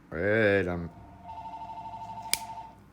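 A telephone rings with a steady electronic warble after a voice speaks, then a short sharp click near the end.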